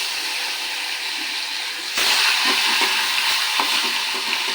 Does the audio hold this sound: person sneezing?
no